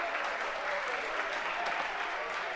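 At an amateur Aussie rules grand final, the crowd bursts into steady applause and cheering after a goal, a dense, even wash of clapping heard from some distance.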